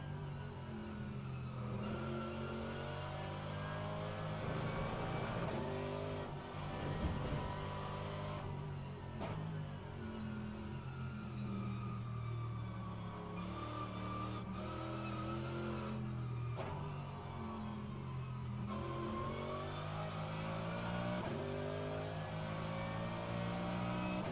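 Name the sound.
Mercedes AMG GT3 engine revving in rFactor 2 video game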